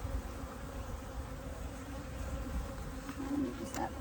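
Honeybees hum steadily in an opened top bar beehive during an inspection, a dense continuous buzz close by, with brief louder swells near the end as the colony stirs.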